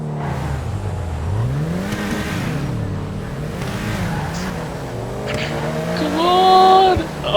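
A Mercedes C63 accelerating in GTA V Online, engine revving and rising in pitch with a brief tire squeal near the end, heard up close and steady throughout.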